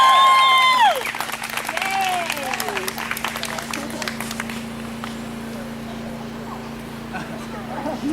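Wedding guests break into applause that starts loud and thins into a looser patter of clapping, with a bright tonal sweep at the start and a steady hum underneath.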